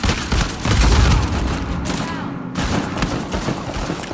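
Heavy gunfire in a multiplayer match of Uncharted 4, a loud, dense barrage of shots with a booming burst near the start and continuing fire beneath game noise.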